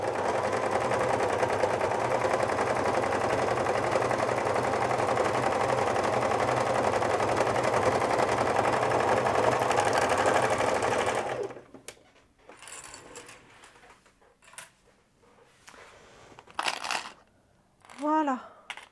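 Domestic sewing machine stitching a sweatshirt-fabric dress, a loud continuous motor whir for about eleven seconds, then stopping, followed by quieter fabric handling, clicks and a brief voice.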